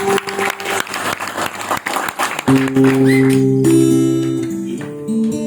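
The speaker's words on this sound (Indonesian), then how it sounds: "Tepuk tangan" A short burst of audience applause at a birthday celebration gathering lasts about two seconds, then gives way abruptly to sustained music.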